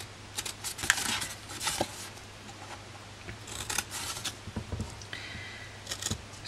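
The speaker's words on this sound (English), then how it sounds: "we are going to snip up each corner like this" Scissors snip up each corner of a paper gift box base, a series of short crisp cuts scattered through the clip, close and fairly quiet, with no talking.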